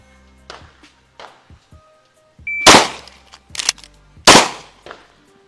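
Two loud, sharp pistol shots fired about a second and a half apart during a one-reload-one shooting drill with a sidecar-style holster, followed by a third crack, with clicks of magazine and gun handling before them and between them.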